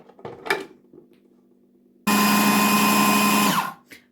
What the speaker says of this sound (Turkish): Hepsini karıştıracağım robotumda.